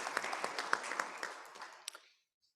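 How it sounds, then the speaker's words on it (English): An audience applauds conference presenters at a financial inclusion forum, a sustained burst of clapping from a sizeable crowd in a hall that fades out after about two seconds. "let us give another round of applause to Commission number 3 colleagues"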